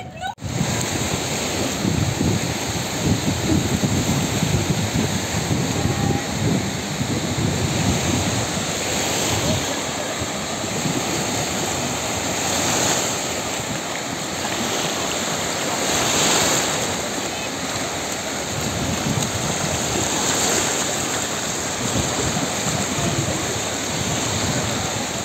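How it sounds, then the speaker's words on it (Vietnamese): Surf rolls steadily onto a beach near Rome, Italy, a continuous loud wash of breaking waves with wind buffeting the microphone throughout. "Bây giờ sẽ tiếp tục giới thiệu cho mọi người cái bãi biển mới gần Rome nha"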